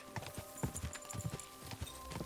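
Horse hooves clop in a quick steady rhythm while riding in Kingdom Come Deliverance, faint and alone over a low game backdrop.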